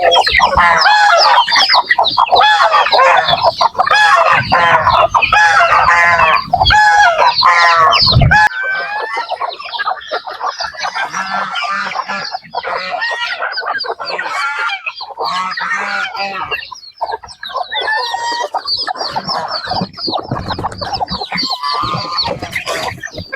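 Chickens and chicks cluck and squawk at feeding time on a rainy morning, a dense, loud chorus of overlapping calls and peeping that runs continuously, slightly quieter in the second half.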